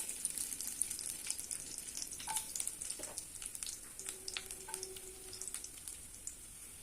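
Mustard, cumin and fennel seeds fry in hot oil for a South Indian anchovy fish gravy, giving a steady close sizzle with scattered crackling pops and no talk.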